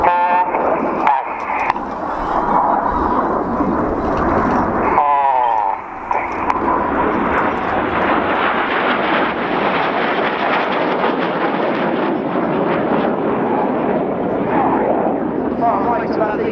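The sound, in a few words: RAF Red Arrows jets flying Python display formation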